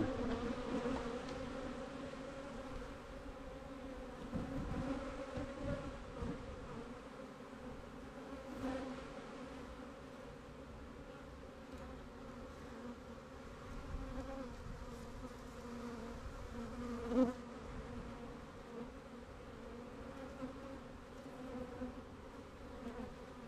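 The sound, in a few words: honeybee colony buzzing in a hive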